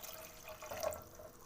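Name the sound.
water being poured into a pot on the stove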